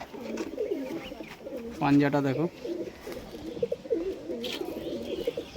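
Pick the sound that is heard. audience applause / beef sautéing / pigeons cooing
pigeons cooing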